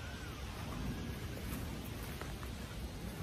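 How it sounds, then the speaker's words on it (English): Rain beginning to fall outdoors makes a soft, even hiss of patter, faint and steady without breaks, heard alone. "Let's get out of here because it's already started raining."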